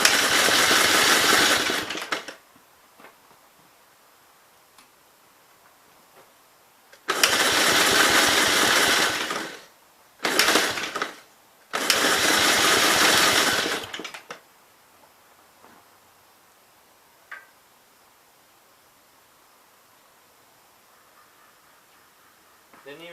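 The engine of a 1951 Gravely L tractor roars loudly in several separate bursts of two to three seconds, with quiet stretches and faint knocks between them.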